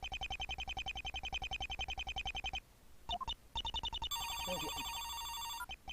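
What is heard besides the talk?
phone ringing in Ace Attorney video game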